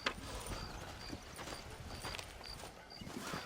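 Horse hooves clip-clop steadily at a trot in the Red Dead Redemption game, a dense continuous beat of hoof strikes with low rumble and scattered faint background sounds.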